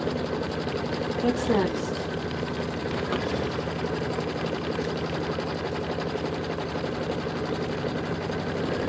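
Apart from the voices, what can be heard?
Kimberbell embroidery machine stitching tack-down in the hoop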